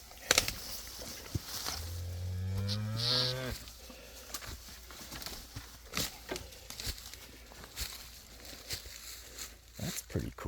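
A cow in a forest lets out a single long, low moo from nearby, followed by footsteps crunching through the woods.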